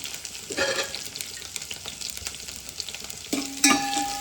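Onions fry in a pan and are stirred among soaked moong dal, giving a close, continuous sizzle with scraping stir strokes and a louder burst of frying near the end.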